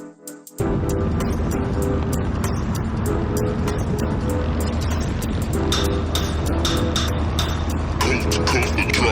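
A Vanderhall roadster drives on the road on a chilly ride, a loud, steady roar of engine, wind and tyre noise close up that starts abruptly and holds constant.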